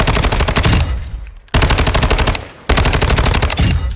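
Bruen Bullpup assault rifle from Modern Warfare 2, fired in three loud, sustained full-auto bursts of rapid, evenly spaced shots separated by brief pauses.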